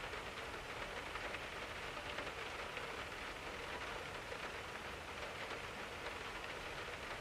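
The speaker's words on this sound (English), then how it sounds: "The smoke finally rolled out, but the rain rolled in." Steady rain falls at a beachside campsite on an overland trip, a constant soft hiss of drops pattering on surfaces, fairly quiet and uninterrupted.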